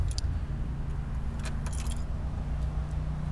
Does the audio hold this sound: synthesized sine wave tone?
no